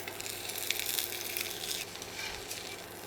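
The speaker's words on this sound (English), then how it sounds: "we're just going to sear and brown all the other sides" Pork belly searing and browning in a hot pan, a quiet continuous sizzle and hiss with slight fluctuations, steady throughout.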